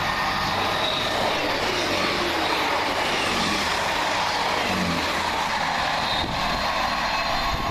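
An Arriva Trains Wales class 158 diesel multiple unit rolls past at Coseley, a continuous loud rumble and rushing roar of wheels on rail that swells slightly and holds throughout.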